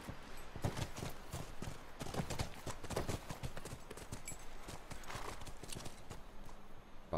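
Horse hooves clip-clop in a fast, continuous patter in the video game The Last of Us Remastered, close and fairly loud, like several horses trotting together.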